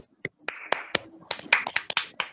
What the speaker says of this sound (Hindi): तालियां मैम के लिए.